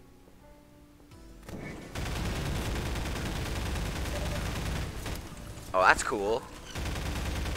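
The Overwatch gun in Half-Life 2 fires a long continuous burst of automatic fire, close and steady, with a voice speaking briefly partway through.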